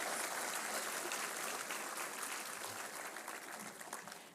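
Steady, dense audience applause for dignitaries on the dais at the Indian Pharmacopoeia 2026 release ceremony, a continuous crowd clatter that holds evenly throughout.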